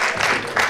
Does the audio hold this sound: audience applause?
yes